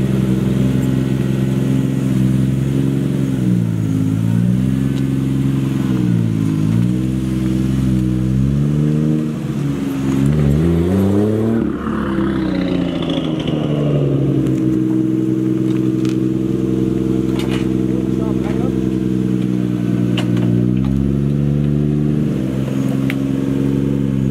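A Nissan R32 GT-R engine idles and revs up and down at close range, climbing and easing off as the car creeps forward onto a trailer, steady and loud throughout.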